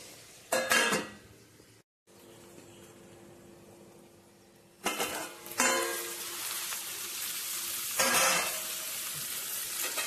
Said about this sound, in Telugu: ఉల్లిపాయ కూడా మగ్గనిద్దామండి.